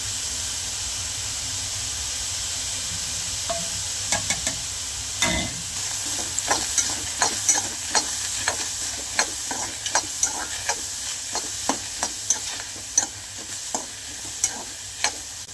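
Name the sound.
curry leaves sizzling in hot oil for dal tadka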